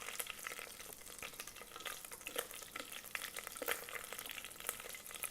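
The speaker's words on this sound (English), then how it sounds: "So we are going to fry this for 10-15 seconds" Whole cardamom, anise seed, fennel seeds and black pepper fry in butter and oil, a steady close crackling sizzle with small sharp pops scattered throughout.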